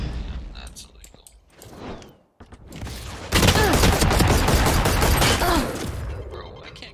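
Bursts of rapid gunfire in Valorant, a tactical shooter game, erupt close and loud in the second half after quieter moments with a voice speaking.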